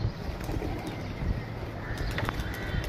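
Pigeons cooing on a rooftop where flying pigeons are kept, soft low repeated coos close by against steady outdoor background noise, with a few faint higher bird chirps mixed in.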